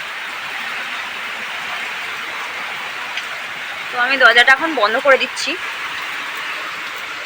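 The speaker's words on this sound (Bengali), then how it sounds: "দেখো দেখো কিরকম বৃষ্টি নেমেছে।" Heavy rain pours outside a house as a constant, even hiss of falling water. Partway through, a person speaks briefly over the downpour.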